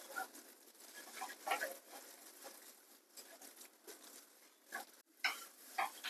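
Khadim Pak sweet mixture being stirred in a pan, a steady soft scraping and sizzling patter with irregular louder strokes, close and alone.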